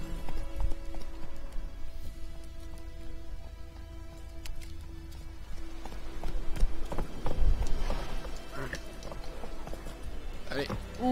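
A horse's hoofbeats in The Witcher video game come as scattered clops, bunching into a quicker patter near the end, over a low game ambience with faint sustained tones.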